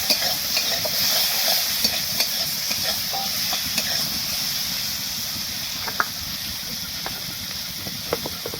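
Potatoes frying with turmeric in a pan, a constant close hiss of oil with scattered crackles and occasional spatula clicks, fairly loud and steady with no talk.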